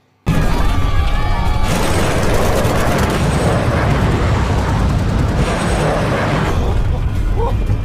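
Fighter planes open fire in a World War II aerial battle film scene, a sudden loud burst of dense, rattling gunfire and booming impacts that stays continuous and heavy, with rapid stuttering bursts near the start.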